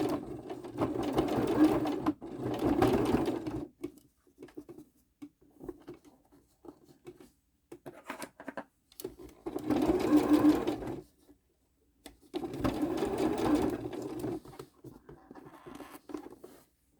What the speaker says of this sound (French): je démarre la couture en faisant un point d'arrêt